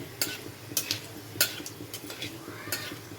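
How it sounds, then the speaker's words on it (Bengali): Dried red chilli tempering being stirred in a pan, with a few sharp utensil clinks and scrapes against the metal at irregular intervals, close and fairly quiet. "শুকনো লঙ্কার ফোড়নটা একটু নাড়াচাড়া করে নিয়ে"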